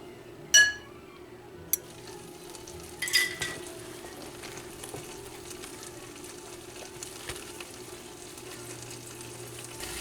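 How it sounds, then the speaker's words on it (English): Slices of King's Hawaiian French toast fry in a pan with a soft, steady sizzle, punctuated by a few clinks and scrapes of a utensil early on. "we're going to put it on the pan and we're just going to cook it on all sides"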